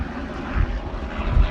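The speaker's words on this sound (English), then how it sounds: "Excuse the helicopter going over." A helicopter passes overhead outdoors near a boat at anchor, a steady low rotor and engine drone that swells twice, mixed with wind, with no talk.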